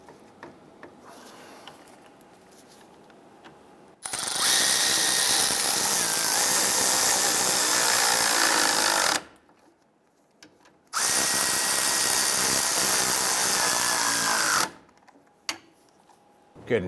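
A power tool drives bolts through the back of a parking brake lever on a 2005-2010 Chrysler 300, running in two loud sustained bursts of about five and four seconds separated by a pause, with quiet stretches before and after.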